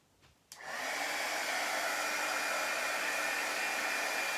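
A hair dryer switches on after a brief quiet moment and then blows steadily, loud and close, drying paint on a craft piece.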